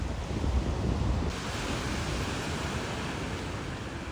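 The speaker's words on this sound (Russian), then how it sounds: "Хотя здесь море всегда такое неспокойное." Sea surf at a beach in Spain, a continuous rushing wash of waves mixed with wind buffeting the microphone, steady and fairly loud with no voices.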